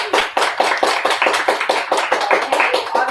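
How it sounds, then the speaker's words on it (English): An audience at a mastermind event claps loudly and close by in a quick, steady run of hand claps that lasts a few seconds. "so give yourselves a round of applause."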